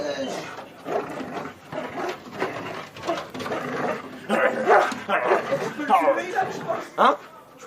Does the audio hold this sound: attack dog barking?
yes